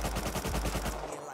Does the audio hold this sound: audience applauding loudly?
no